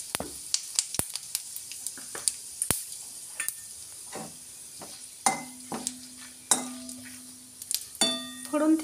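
Whole cardamom, clove, bay leaves, cumin and a pinch of sugar tempering in hot oil for a soybean curry: a faint sizzle broken by sharp clicks and taps of a spoon stirring against the pan, with occasional louder scrapes.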